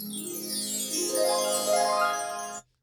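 Magical sound effect from a Rodecaster Pro pad: a shimmering, glittering electronic wash with rising, sweeping tones that ends abruptly after a few seconds, with no talking.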